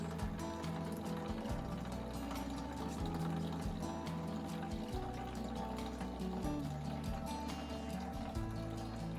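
Water gushes steadily from an open sewer pipe in an old house, a constant splashing rush with low gurgling pulses underneath, close and loud throughout.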